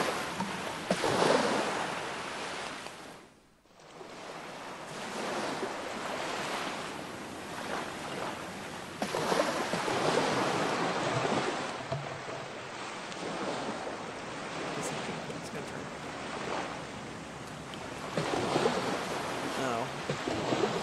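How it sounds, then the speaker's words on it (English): Water sloshes and washes steadily around a boat drifting in fog in the game Man vs Middle-Earth, with water running out from the bilges, in a continuous rushing surge with a brief lull early on. "The water is from the bilges just running out to the side here"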